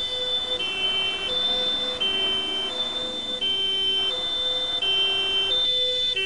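An ambulance siren sounds loud and close throughout, cycling steadily between two alternating wailing tones in a repeating hi-lo pattern, with no voices.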